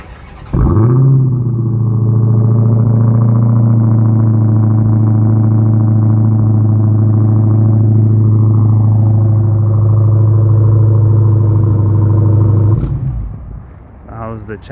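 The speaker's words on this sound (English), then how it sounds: "So let's hear the Challenger fire up." A Dodge Challenger Hellcat's big V8 engine cranks and fires up, settling into a loud, deep, steady burbling idle close by before cutting off near the end.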